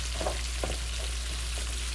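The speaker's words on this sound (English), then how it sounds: "Get that butter all down in the pan" Butter melting and sizzling in a pan before lamb loin chops go in: a steady, dense frying hiss with faint crackles and a low background hum, constant and close.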